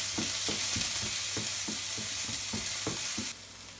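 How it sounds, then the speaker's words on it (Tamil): Onion and garlic sautéing in a pan for a carrot poriyal, a dense close sizzle with regular knocking stirs about every third of a second, the sizzle dropping away near the end; no talking. "வெங்காயம் வந்து நம்ம பூண்டு வதக்கிடலாம்"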